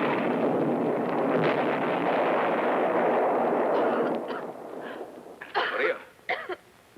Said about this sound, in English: Oh, Uncle Andre, I'm scared of explosions.